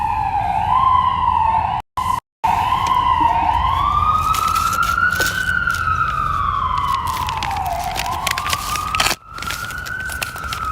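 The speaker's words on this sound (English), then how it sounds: "Sirens are back." Emergency vehicle sirens wail on a New York City street, rising and falling continuously and fairly loud above traffic noise, with a short break in the sound partway through.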